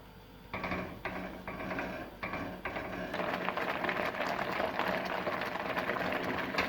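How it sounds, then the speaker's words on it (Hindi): Tomato paste cooking in a pan over a medium flame, with a steady bubbling sizzle that grows fuller and denser midway, broken early on by a few sharp stirring knocks, and no voices. "इसको मीडियम फ्लेम तक इस वक्त तक पकाएंगे जब तक इसका पानी नहीं खुश्क हो जाता"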